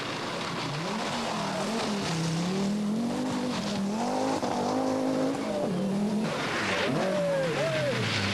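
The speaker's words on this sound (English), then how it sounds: "Marc Douay drives the Audi Quattro for the first time, giving some spectators a close look at the car" An Audi Quattro rally car passes close to spectators with a loud, sustained engine roar that rises and falls through gear changes, and a crowd murmurs in the background.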